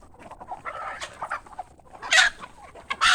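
Native chickens on a farm clucking and chattering close by, a run of soft broken clucks followed by two louder, sharper squawks near the end.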